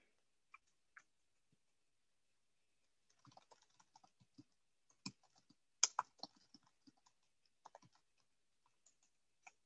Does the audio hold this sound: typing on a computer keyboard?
yes